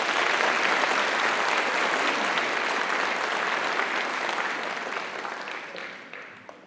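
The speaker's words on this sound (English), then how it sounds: "Let's clap for Paisley." Audience applause at a school community awards ceremony, a dense, steady clapping from a room of people that holds strong and then gradually thins and fades toward the end.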